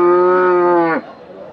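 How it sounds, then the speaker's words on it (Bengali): A dairy cow at the Mirganj cattle market gives one loud, close moo that holds steady for about a second and then breaks off, leaving quiet market background. "এই পর্যায়ে আমরা কিছু দুগ্ধজাত গাভীর গরুর দরদাম জানাচ্ছি আপনাদের"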